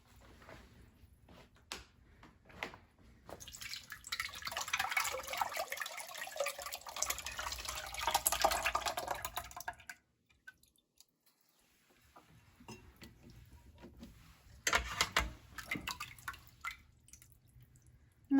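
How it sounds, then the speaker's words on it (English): Liquid runs and drips through a fine mesh strainer in a steady pour, stopping abruptly, then resuming in a second shorter burst of splashy trickling with scattered drops. "There may be a few things that drip through here, but not too much"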